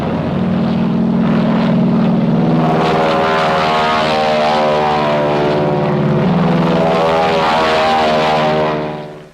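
Black Widow military aircraft with propeller engines drones loudly and steadily in flight, a dense continuous engine roar with a pitch shift partway through, close and alone throughout.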